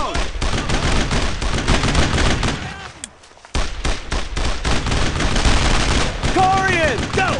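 Dense bursts of rapid gunfire crackle almost without pause in Brothers in Arms: Road to Hill 30, briefly dropping out before the volley resumes loud and close, with shouted voices over the shooting.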